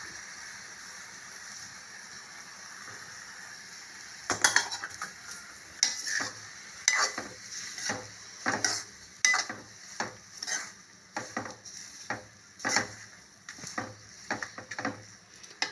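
Puffed rice (maramaralu) is stirred in a pan for uggani. After a quiet opening, a spoon scrapes and rattles in repeated irregular strokes against the pan, close and fairly loud.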